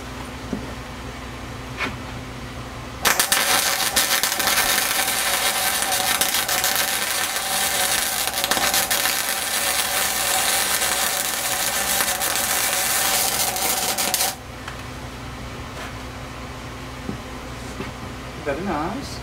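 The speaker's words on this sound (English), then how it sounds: "we're going to weld that in place to create our shelf" Welding a plate steel shelf into a homemade rocket stove, a loud steady crackling hiss lasting about eleven seconds, starting and stopping abruptly over a low background hum.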